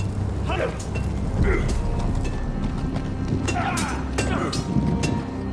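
Horse hooves clip-clopping as a rider arrives in the Game of Thrones Telltale game, a few scattered hoof strikes at moderate distance over a rainy, rumbling outdoor ambience, with someone talking over it.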